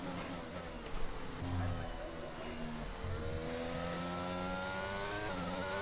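A Formula One race car in the F1 22 video game accelerates through gears on track, a continuous high engine whine with rising pitch sweeps and shifts, loud and steady throughout.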